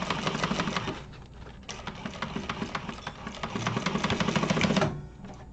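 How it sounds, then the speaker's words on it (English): Sewing machine topstitching a soft bag lining, a fast even chatter of needle strokes running in steady bursts with brief pauses, close and fairly loud, with no talking. "top stitch it up towards the lining"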